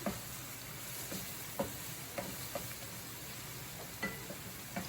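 Cajun adobo crabs with garlic fry in a pan under a steady sizzle, punctuated by occasional clacks and scrapes as they are stirred, quiet and close with no talking.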